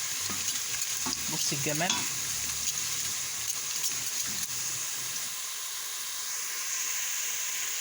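Food frying in a pan for home-made Egyptian koshari hisses and sizzles steadily while it is stirred, with a few scraping strokes early on; someone speaks briefly over the frying.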